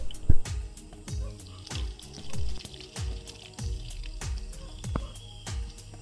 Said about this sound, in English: Remove the starchy water.